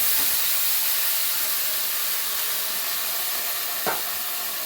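Marinated chicken with garam masala frying in ghee, a steady loud sizzling hiss throughout, with a brief scrape of stirring near the end and no talking.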